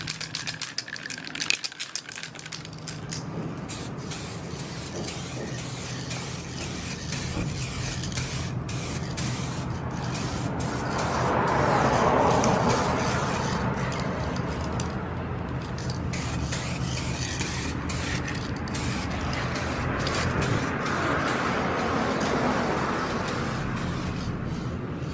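A steady hiss of spray paint coating Acura Integra Type-R side skirts runs nonstop at close range, with faint rattling underneath.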